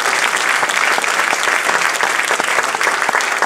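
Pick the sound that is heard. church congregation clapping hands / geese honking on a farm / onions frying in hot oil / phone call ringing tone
church congregation clapping hands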